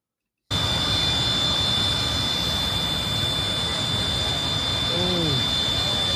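An airplane circles overhead as it works its way down to land, heard as a loud, steady jet roar that sets in after a brief silence and holds throughout. A fainter tonal sweep passes near the end.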